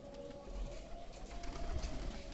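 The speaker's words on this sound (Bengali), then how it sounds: "অনেক কবুতর, প্রায় 50টা 60টা কবুতর আছে।" Pigeons coo softly in a crowded coop of about fifty or sixty birds, low murmuring calls blending into a steady hum with faint flutters and background noise.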